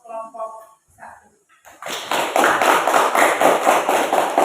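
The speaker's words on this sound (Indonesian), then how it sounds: "Kita beri aplaus untuk kelompok 1" A classroom of students applauding group 1 after their presentation, a burst of dense clapping that follows a teacher's spoken line and carries on loudly to the end.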